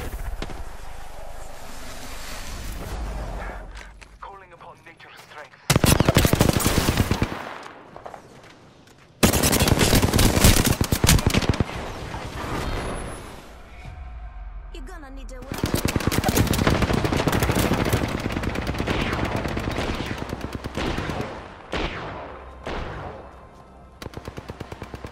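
Automatic weapon fire in the video game Apex Legends comes in loud, close bursts of rapid shots separated by short quiet gaps, repeating across the stretch with no speech.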